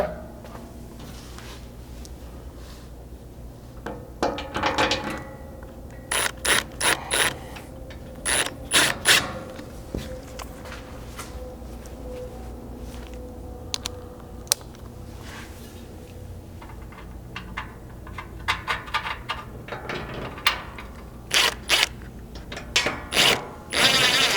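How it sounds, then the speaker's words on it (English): A 5/16 hex driver turns button head bolts into Land Cruiser 200 Series and LX 570 skid plates, making bursts of close, quick ratcheting clicks and metallic rattles between quiet pauses, with no talking. "we can use a 5/16 hex to start these button head bolts"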